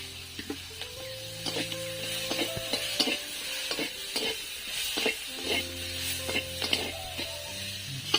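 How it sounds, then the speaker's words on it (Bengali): A pinch of turmeric fries in oil in a pan while a spatula stirs through it. Rhythmic scraping strokes sound close over a steady low sizzle, with a faint tonal hum in the background. "ওতে একটু সামান্য হলুদ দিয়ে দিচ্ছি।"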